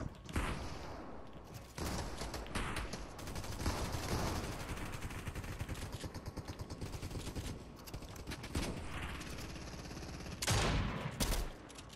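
A submachine gun in a video game fires in long rapid bursts, loud and close, with a sharp final volley near the end.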